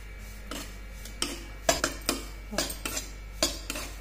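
A spatula scrapes and stirs in a pan while kankecha shira, a Maharashtrian sweet, is slowly roasted over a low flame. Close, irregular scraping strokes come in about eight short bursts, with no talking.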